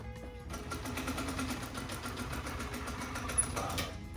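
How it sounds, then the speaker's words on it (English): A sewing machine runs steadily through a top stitch, a continuous rapid mechanical whir with fine rhythmic ticking that starts abruptly and holds close and even for several seconds, with no talk. "So now I'm just going to do this top stitch right to the end."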